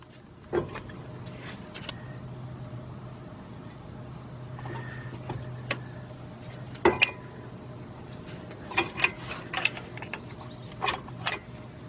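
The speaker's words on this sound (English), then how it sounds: "get your screwdriver, prying it between the brake pad and the rotor" A screwdriver pries between the front brake pad and rotor on a Nissan Altima or Sentra, giving scattered metallic clicks, creaks and scrapes over a low steady hum, busiest near the end, with no talking.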